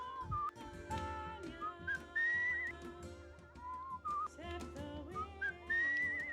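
A person whistles a lively, wandering melody of short and sustained notes for several seconds. The whistling is close and alone, with no talking.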